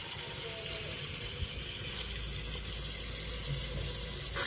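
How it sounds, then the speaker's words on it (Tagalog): Water poured into a cooking pot of humba paksiw with pork hock and banana blossom, a steady splashing stream heard throughout, fairly close. "Lagyan natin ng konting tubig."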